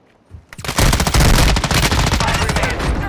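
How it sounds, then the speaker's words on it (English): Loud, sustained automatic gunfire in a battle royale video game opens after a brief quiet moment and becomes a dense rattle of rapid shots, close and overpowering, with a player's voice mixed in. "They're shooting at me!"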